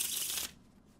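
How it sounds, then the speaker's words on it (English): A Pharaoh shuffle of a new Origami playing card deck, a quick close riffling flutter of cards lasting under half a second, then quiet room tone. "Pharaoh shuffles are also very important to kind of get the edges of the cards worn in"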